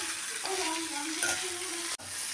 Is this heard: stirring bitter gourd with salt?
yes